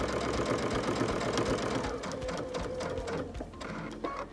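Home sewing machine stitching quilt-as-you-go patchwork blocks, a steady close whirring drone of the needle that slows and stops briefly near the end for a pivot, with no talking.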